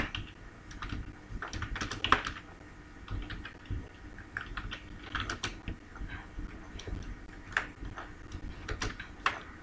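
Someone types on a computer keyboard up close, a quick uneven run of key clicks and taps lasting several seconds with no talking.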